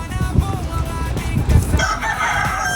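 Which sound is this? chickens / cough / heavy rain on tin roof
chickens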